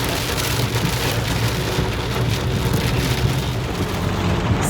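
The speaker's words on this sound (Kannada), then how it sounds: "ಮಳೆ ಆರ್ಭಟ" Heavy monsoon rain pours down in a loud, steady roar with dense pattering on surfaces. A low rumble runs underneath, and there are no voices.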